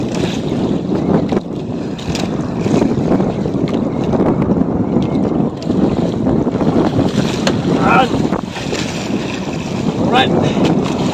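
A bangka, a Filipino outrigger boat, motors across open sea near Palawan: a steady, close engine drone with wind buffeting the microphone and water rushing along the hull, continuous throughout.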